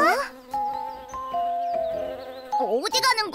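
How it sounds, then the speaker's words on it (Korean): Cartoon honeybee buzzing in a Pororo children's animation, a wavering insect drone that rises and falls over a few seconds alongside bright musical tones. "친구들, 귀여운 꿀벌이 찾아왔어."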